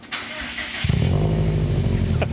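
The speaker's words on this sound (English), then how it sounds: "I want to start it up now." A catless Subaru WRX STI with a Cobb titanium exhaust cranks and catches, settling into a steady, fairly loud idle with a deep exhaust rumble after a brief starter whir.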